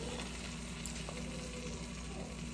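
Marinated spareribs fry in a pan with a loud, continuous close sizzle and crackle that holds steady throughout, with no talking.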